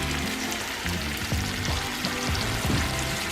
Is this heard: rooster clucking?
no